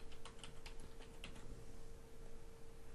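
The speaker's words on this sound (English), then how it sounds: "So type in a password for Bob's account, and I'm just going to use password as lowercase here" Rapid keystrokes on a computer keyboard as a password is entered, a quick burst of light clicks in the first second and a half, then sparser taps over a steady background hum.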